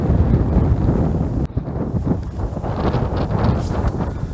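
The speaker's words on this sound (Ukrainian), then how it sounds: "Вітер задуває" Strong gusty wind roars and buffets the microphone in a continuous low rumble at a winter pond shore, with no voices.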